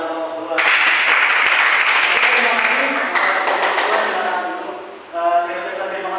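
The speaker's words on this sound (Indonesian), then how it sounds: "tepuk tangan kepada Bapak Ketua" Applause for the chairman at an Islamic religious education teaching session, a dense burst of clapping from the room that swells quickly, holds steady for several seconds, then thins out near the end.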